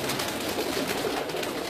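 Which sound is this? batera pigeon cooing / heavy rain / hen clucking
batera pigeon cooing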